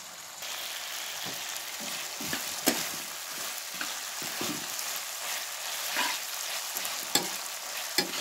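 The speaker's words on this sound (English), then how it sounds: "Just fry it for a couple of minutes." Fish frying in a pan alongside potatoes, a moderate steady sizzle with occasional sharp pops and light clinks of a utensil.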